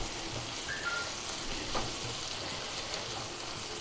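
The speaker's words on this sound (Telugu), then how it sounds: "ఒకసారి కర్రీ కలుపుకుందామండి" Mushroom curry sizzles steadily in a frying pan, a soft, even hiss of cooking with a brief scrape of stirring near the middle, close and fairly quiet with no voices.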